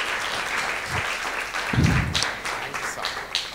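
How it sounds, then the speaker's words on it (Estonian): An audience claps for a speaker being introduced at an Estonian talk on getting students to work and take responsibility, a short burst of scattered applause mixed with a voice. "Nii, võime plaksutada, sihuke saavutus on ikka väga äge."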